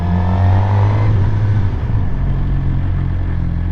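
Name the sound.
Suzuki GSX-R 600 motorcycle coming to a stop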